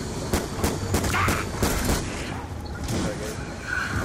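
Rapid bursts of ray-gun fire in a co-op shooter game, loud repeated shots layered over excited players talking to each other.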